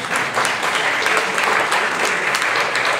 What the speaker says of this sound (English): Go ahead, applaud.